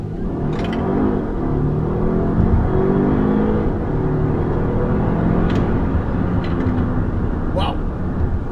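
Volvo XC60 T8 Recharge plug-in hybrid SUV pulling away hard from a traffic light, heard from inside as a rising engine roar and road rumble with a few faint clicks.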